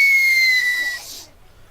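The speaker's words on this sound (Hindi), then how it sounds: "कहल के ये कुकर में सीटी मारी है" A pressure cooker whistle shrieks loudly and steadily for about a second, then fades into a hissing release of steam.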